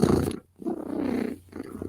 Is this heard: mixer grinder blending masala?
no